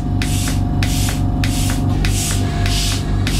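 An oxygen facial machine sprays a steady jet onto the face, a loud continuous hiss over a low mechanical hum, with airy bursts pulsing roughly every half second; no talking.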